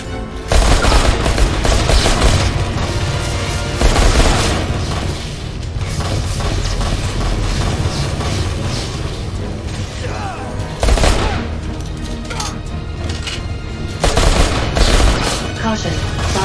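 Video game combat with rapid bursts of gunfire and booming explosions in loud, dense waves that swell and ease repeatedly over about sixteen seconds.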